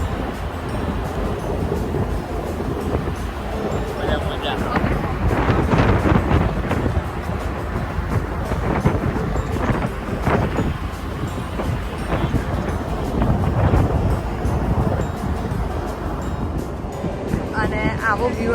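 Strong wind buffets the open top deck of the moving Chi-Cheemaun ferry near Manitoulin Island, roaring steadily over the drone of the boat and water, with a voice talking intermittently underneath.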